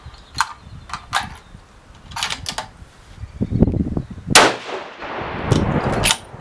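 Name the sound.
rifle gunshot, 7mm Remington SAUM, 180 grain hybrid load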